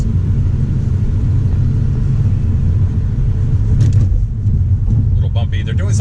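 A car driving along Shore Drive rolls over a bridge near Chic's Beach, giving a steady low road rumble and engine drone throughout, with a few light rattles near the end.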